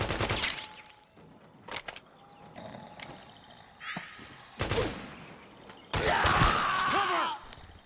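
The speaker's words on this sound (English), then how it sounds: "Suppressing fire!" Suppressing gunfire in the video game Metal Gear Solid 4 comes in separate sharp bursts and cracks spread across several seconds, with a louder, longer volley near the end over a faint background.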